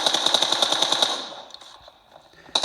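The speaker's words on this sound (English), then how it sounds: "I'm going to start shooting" Rapid automatic gunfire from a shooter game played on a Galaxy Tab S6 Lite, a loud burst of evenly spaced cracks lasting about a second, then fading to quiet before another shot at the end.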